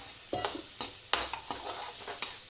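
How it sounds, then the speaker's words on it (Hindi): Onions frying in a pan on medium flame, with a soft steady sizzle broken by several sharp scraping stirs of a spoon, close up and with no voices. "प्याज को हम लाल होने तक अच्छे से भूनेंगे मीडियम फ्लेम पे"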